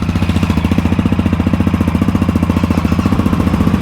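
A Yamaha Ténéré 660 motorcycle engine runs at a steady idle close by, a loud, even, rapid thumping pulse that holds for the whole stretch with no voices.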